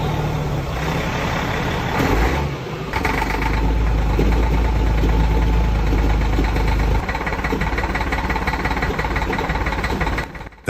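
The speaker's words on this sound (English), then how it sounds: "Nothing beats a cold Cat 3406E waking up an entire neighborhood on a snowy morning." A Caterpillar 3406E diesel truck engine idles cold on a snowy morning, a loud, close, steady rumble with a deep low throb that drops and shifts a couple of times partway through.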